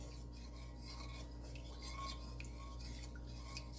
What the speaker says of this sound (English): Stir it up real good to dissolve it